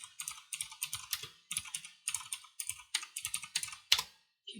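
Rapid typing on a computer keyboard, with bursts of close, crisp key clicks and short pauses between them, and no voices.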